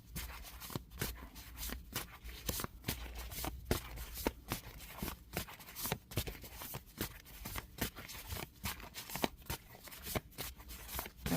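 Oracle cards shuffled by hand, a close run of soft riffling bursts in a fairly regular rhythm with brief pauses between them.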